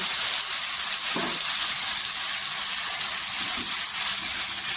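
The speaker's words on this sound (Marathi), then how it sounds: "आता इथे आहे ना टोमॅटोची प्युरी टाकायची." Tomato puree sizzles and sputters in hot oil over sautéed garlic paste while cooking a spicy crab curry, a steady loud hiss close by with a couple of soft stirring bumps.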